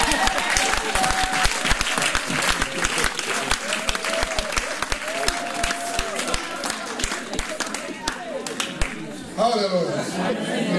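Church congregation applauding during a service, with steady dense clapping throughout, plus crowd voices and chatter mixed in, fading out near the end.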